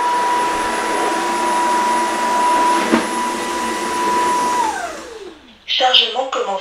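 MOVA X4 Pro wet-dry stick vacuum cleaner running: a loud steady motor whine with a high tonal hum that spins down and stops, followed by a short electronic voice announcement from the machine.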